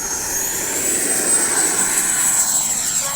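An FMS 80mm F-86 electric ducted-fan RC jet flies overhead on a calm evening, giving a steady, loud turbine-like whine with a rushing roar that holds constant throughout, with no talking.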